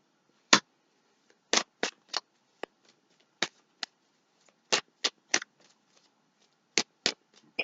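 Playing cards being shuffled during a tarot reading: a series of short, crisp riffling bursts in irregular clusters, close and fairly quiet, with no voices.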